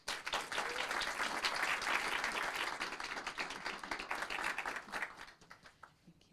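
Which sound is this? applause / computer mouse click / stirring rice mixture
applause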